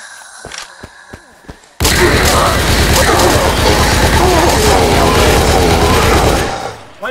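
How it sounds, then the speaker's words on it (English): Sustained rapid automatic fire from a light machine gun in a zombie survival video game, a dense, loud continuous burst lasting several seconds after a few isolated thuds, then stopping abruptly. "Light machine gun for the win!"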